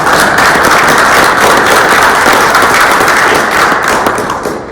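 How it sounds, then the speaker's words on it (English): Audience applause at a school board meeting, a dense, steady wash of many hands clapping close by for almost five seconds, fading slightly at the end. "I think we got to give everyone a round of applause"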